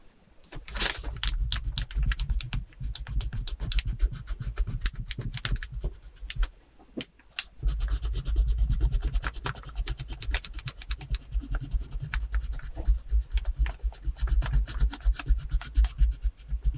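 Steady crayon scratching as paper is colored, dense and close, with shifting pressure that makes the strokes louder and softer; it breaks off briefly near the middle, then resumes just as busily.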